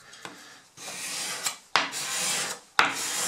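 A card scraper scrapes across wood in four dry, rasping strokes separated by short pauses, close and fairly quiet, with no talking.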